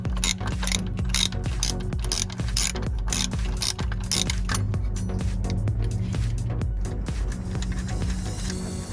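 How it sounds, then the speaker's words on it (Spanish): Ratchet wrench loosening the screws of a clamping plate on a BMW E90 petrol engine, a steady close rapid clicking of the pawl continuing throughout. "Vamos a ir aflojando y vamos a quitar los tornillos."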